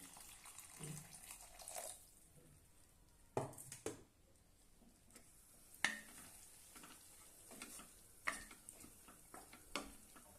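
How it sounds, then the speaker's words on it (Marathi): Hot water poured into a pan of chana potato bhaji, a faint watery splash and trickle among a few soft knocks and clinks from the pan. "आता आपण यामध्ये थोडं पाणी घालूया गरम पाणीच घालायचं"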